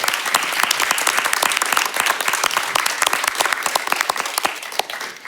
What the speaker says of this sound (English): I would like that we give a big applause to the panelists